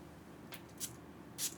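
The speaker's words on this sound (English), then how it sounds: "Big wide spray." Three short hissy bursts of a perfume atomizer spray, the last one strongest, against a quiet background.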